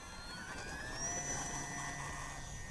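An FMS PC-21 Pilatus RC plane runs at full throttle on takeoff with no flaps, its electric motor giving a steady, rising high-pitched whine that stays moderately faint against the outdoor background.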